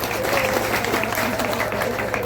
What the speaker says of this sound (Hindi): खुद के लिए जबरदस्त ताली बनता है।